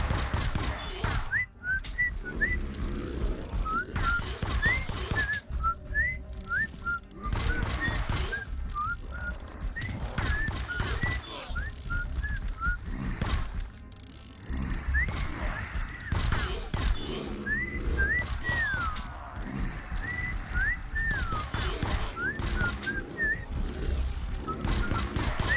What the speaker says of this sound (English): I can't whistle that good.